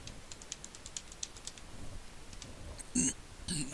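Quick, light clicks of typing on a computer keyboard, entering alt text, in a steady uneven patter at low volume, with a couple of louder clacks near the end.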